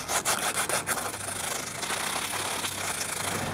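Sandpaper of 100 grit rubs back and forth over a wooden chef's knife handle, a close, steady rasping with quick strokes at first that then settle into a continuous scratch.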